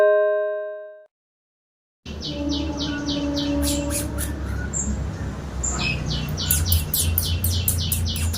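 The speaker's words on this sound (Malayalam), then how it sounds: "ഇപ്പം നല്ല ഫുള്ള് കിളികളുടെ ശബ്ദം." After rain, birds chirp and squawk nearby in quick repeated bursts over a steady background wash, following a fading chime-like ring and a brief silence at the start.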